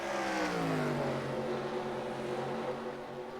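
Several Ford stock cars in a simulated NASCAR race at Rockingham, North Carolina, roar together in a steady, loud engine drone with pitch sliding down as they lift, no voices over the racing.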